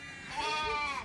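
A single goat bleats from a farm flock of sheep and goats kept for kidding and lambing, one wavering cry lasting about a second, fairly close and clear with no talk.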